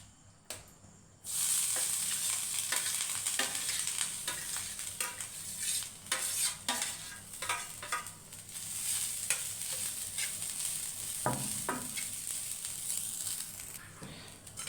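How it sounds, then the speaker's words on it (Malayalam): Grated coconut roasts in a hot pan with a dry crackling sizzle as a spoon scrapes and stirs it again and again, close up and fairly quiet. "അങ്ങനെ ചട്ടി ചൂടായി നമ്മൾ തേങ്ങ വറക്കാൻ വേണ്ടി പോവുകയാണ്."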